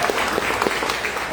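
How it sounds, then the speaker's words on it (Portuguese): A church congregation applauds together, a dense steady patter of many hands clapping at moderate loudness, with a faint voice underneath. "e aplaudimos o Senhor na vida deles"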